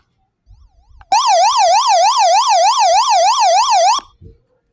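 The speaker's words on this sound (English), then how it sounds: "And then it has a SOS siren like Ranic." The SOS siren on a small emergency AM/FM/WX alert radio wails loud and close, a rapid rising-and-falling electronic tone lasting about three seconds, preceded and followed by faint handling noise.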